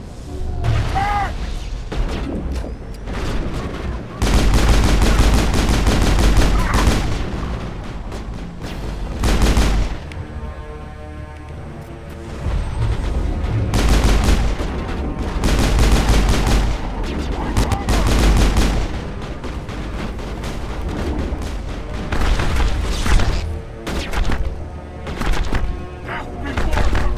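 Sustained bursts of automatic gunfire and explosive booms in Mass Effect's Bring Down the Sky combat, loud and dense for the whole stretch with brief lulls, while in-game voices shout orders over the shooting.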